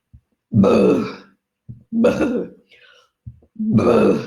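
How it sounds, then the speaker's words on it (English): Three throaty, drawn-out burps in a row, loud and close, separated by short pauses, with a faint breathy sound between the second and third. "I do a lot of burping to release surrogately."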